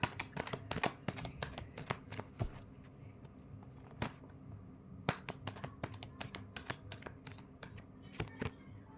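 Tarot cards are shuffled in bursts of sharp riffling flutters and slaps, several clusters separated by short pauses, close and fairly quiet with no voices.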